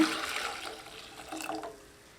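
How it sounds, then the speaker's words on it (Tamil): Strained water pours and splashes briefly while making nannari sarbath syrup, a close, gushing liquid sound that tapers off after about two seconds. "இப்போ வடிகட்டின தண்ணியை ஊற்றிக்கலாங்க"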